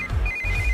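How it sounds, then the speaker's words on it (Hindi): A telephone ringtone gives a brief, steady electronic ring at moderate volume with a low background hum underneath. "इस वक्त दीदी का फोन।"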